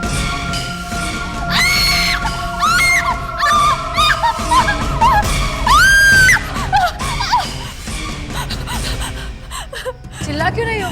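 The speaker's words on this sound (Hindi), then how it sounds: "चिल्ला क्यों रही हो?" A woman screams in a horror drama scene, high wavering shrieks and gasping cries rising over a dramatic music score with strained sustained tones; the outbursts come in repeated bursts, loud and close.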